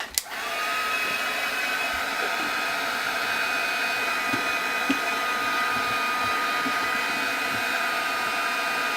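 A hand-held dryer blows hot air over inked paper crafts, switching on with a click and then running in a loud, steady, close whine and rush that never wavers for the rest of the clip.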